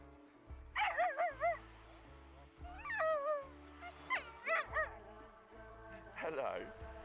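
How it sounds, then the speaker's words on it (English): A dog in a Papua New Guinea village lets out a run of high, whining yips and short barks in several bursts, close by, over a low background rumble. "even got to meet Emma's dog Ghost, who might just be one of the happiest pups on the planet."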